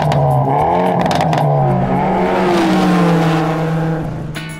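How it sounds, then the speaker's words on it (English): A Toyota Aygo X Cross with its base engine and CVT gearbox under way, a loud, close engine drone whose pitch rises, dips and rises again smoothly, fading slightly at the end, with no talk. "Danas vozimo Aygo Cross sa početnim motorom, sa CVT mjenjačem, dakle vozi se kao automatik"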